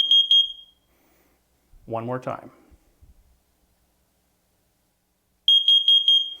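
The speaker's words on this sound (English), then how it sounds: "Now you will hear the CO alarm." A combination smoke and carbon monoxide detector on test gives short bursts of rapid, shrill electronic beeping at the start and end, close and loud, with someone speaking briefly in the quiet gap between.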